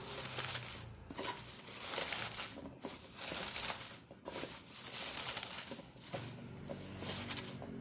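Hands knead and squeeze salted cabbage in a bowl to soften it for a coconut-water pickle, giving steady wet crinkling and squelching with rhythmic pulses, close and continuous.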